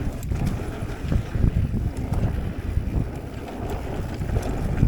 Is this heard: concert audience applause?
no